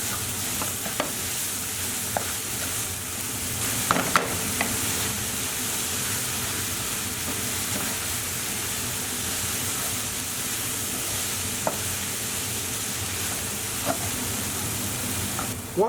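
Onions frying in a pan with salt, black pepper, sweet paprika and turmeric give a steady, close sizzle with occasional scrapes and taps of stirring, and no voices.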